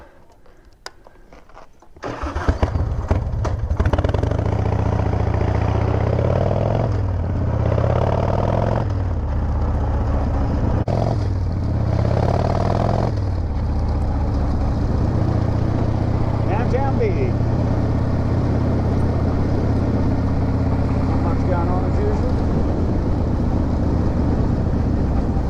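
A Harley-Davidson motorcycle engine rumbles steadily while riding, a loud continuous low drone after a quiet start, with shifts in pitch as it speeds up and eases off, and wind noise throughout.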